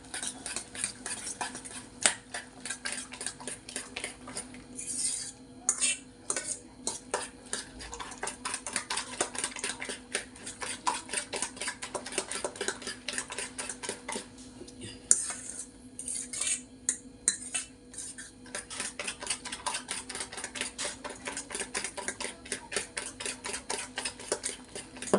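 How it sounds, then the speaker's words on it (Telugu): Five eggs with potato for an omelette are whisked in a bowl, a steady rapid clatter of utensil against the bowl continuing for a long stretch with short pauses, close and moderately loud. "ఇప్పుడు 5 గుడ్లని బీట్ చేసుకుందాము"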